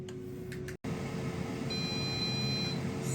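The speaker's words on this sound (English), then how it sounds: "So the chicken has beeped." An air fryer sounds its finished-cooking alert partway through, a short run of clear high electronic beeps over a steady fan hum, briefly interrupted by a moment of silence before the beeps.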